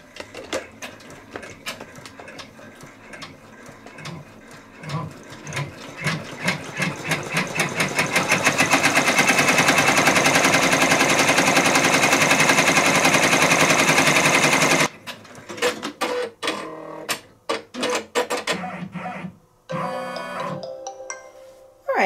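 An embroidery machine sews the final stitch of an appliqué heart, its needle chattering in a fast, steady run that builds to a loud, dense whir, holds for several seconds, then stops abruptly, followed by a few scattered clicks.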